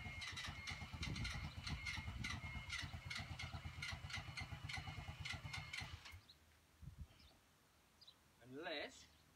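A Hunter 200 cc ATV engine in Mildura, Victoria, Australia runs with a faint, uneven pulsing idle for several seconds and then cuts out, leaving quiet background and a brief bird call.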